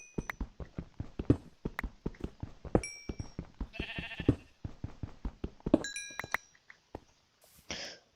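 Sheep bleating in the Minecraft Aether mod, with a run of sharp, rapid percussive clicks and a few bleat-like bursts throughout, fairly close, with no speech.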